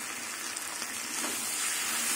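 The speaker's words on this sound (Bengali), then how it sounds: "আদা বাটা দিয়ে কিছুক্ষণ আবার কষিয়ে নেব সবজিগুলো।" Vegetables sautéing in a pan with ginger paste, a steady close sizzle and crackle of frying that grows slightly louder, with no talking.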